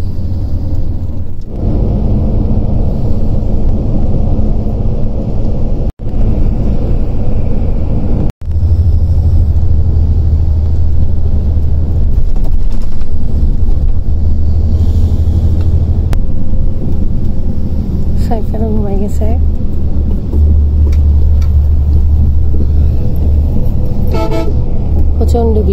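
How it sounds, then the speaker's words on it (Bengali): Road noise from a long-distance bus travelling from Rangpur toward Dhaka at night after heavy rain: a steady low engine rumble and drone runs throughout, with a couple of brief dropouts and faint horn toots near the end. "বাস চলল।"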